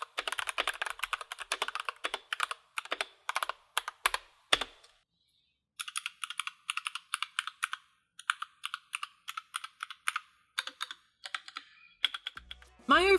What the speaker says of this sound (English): these linear switches seem to sit comfortably in between, offering that slightly more subdued typing sound